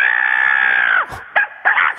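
A person imitates a crow's caw in a radio show's crow-impression contest: one long sustained strained cry lasting about a second, then a swoop down and two short, sharp bursts, loud and close.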